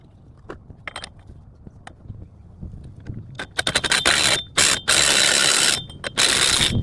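Axle nut being secured on a 2013 Ford Focus during a knuckle replacement: quiet clicks and taps at first, then loud bursts of close ratcheting and mechanical scraping with short pauses between them, no talking.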